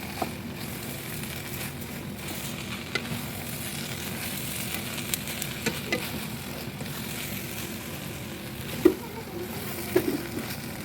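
Goat meat and mint leaves stir-frying in a pan, a steady sizzle with light scraping and occasional sharper clicks of a utensil, close and continuous throughout.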